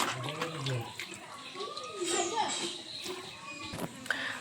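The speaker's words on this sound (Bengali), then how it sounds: "আমরা মাংসগুলো খুব ভালোভাবে ধুয়ে নিয়েছি।" About 2 kg of fatty raw beef being washed in water for biryani, with splashing and sloshing under someone speaking, and faint children's voices in the background.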